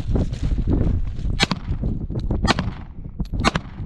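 A Sig Sauer M17 pistol fires three sharp, loud rounds about a second apart at a second target during an outdoor timed gun run, each crack cutting through a rumbling, windy background.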